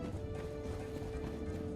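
In Dark Souls, an enemy stomps around with faint, rhythmic heavy thuds under a steady low game drone.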